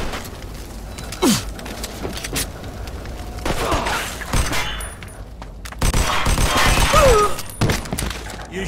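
Gunfire erupts in Mafia II, with scattered sharp shots and bursts, some glassy cracks and impacts spread across the scene at varying distances, mixed with brief character voices and groans.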